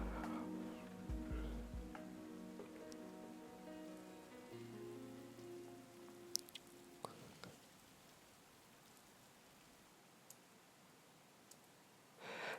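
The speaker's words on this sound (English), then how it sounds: "His voice and the sound of the rain seemed distant." Rain in the game Witch on the Holy Night, a soft continuous patter of drops on surfaces with a few faint clicks, low and distant under fading music at the start.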